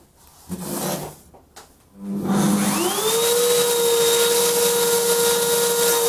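A dust extraction vacuum starts up beneath a woodworking template jig and settles into a loud, steady whine that runs to the end, after a few brief handling knocks.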